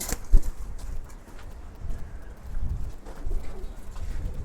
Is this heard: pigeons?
yes